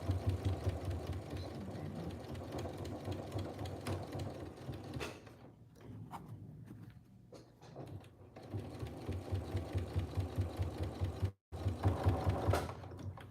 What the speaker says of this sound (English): when a sewing machine can just do a chef's kiss top stitch